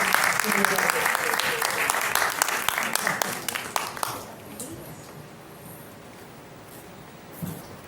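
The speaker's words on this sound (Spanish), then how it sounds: "Y ahora vamos a recibir con un fuerte aplauso a doña Lisette y nuestra invitada Priscila Velázquez." Loud audience applause greets two guests, doña Lisette and the author Priscila Velázquez, at a novel discussion event. It lasts about four seconds, then fades into quiet room sound with a faint voice.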